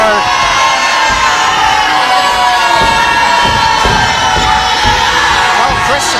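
Loud, continuous roar of a live wrestling crowd in Red Bluff, cheering and shouting together with excited high voices rising above the din throughout.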